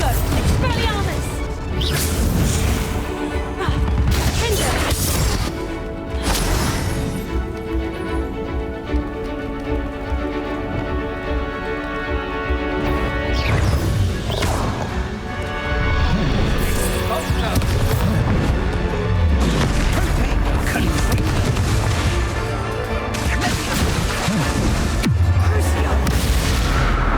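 Spell combat in the video game Hogwarts Legacy unleashes a rapid series of loud booms and crashing blasts, several heavy impacts in quick succession with brief lulls between bursts over a continuous backdrop.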